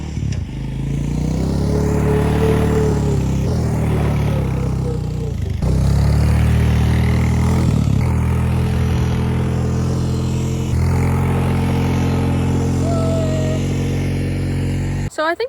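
Honda Recon ATV engine revving steadily while the four-wheeler corners on a track, a loud continuous drone that rises and dips with throttle over about fifteen seconds.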